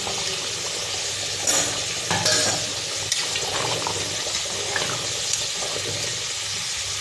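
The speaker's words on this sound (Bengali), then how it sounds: "এখন আমি গরম মশলা দিয়ে দিচ্ছি।" Cooked mutton is stirred in a pan after garam masala goes in, giving a steady, fairly loud sizzle with a few sharper scraping bursts from the spoon; no one speaks.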